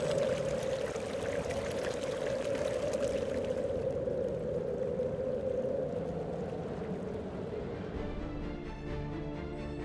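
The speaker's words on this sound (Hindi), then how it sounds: "इससे जुगलबंदी कर रही है स्पीति नदी की कलकल" The Spiti river rushes and gurgles in a continuous, steady stream of flowing water that sounds fairly close, easing slightly toward the end, with no voices.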